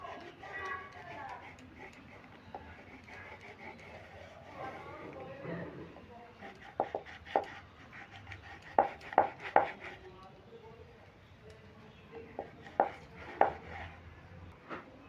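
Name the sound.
knife cutting peanut chikki candy into pieces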